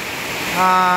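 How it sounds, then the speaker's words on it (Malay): Heavy monsoon rain and rushing floodwater beside a house, a loud, close, broadband roar that swells toward the end with a tonal hum layered on top. "Hujan ni daripada pukul 12 tengah hari saat ni."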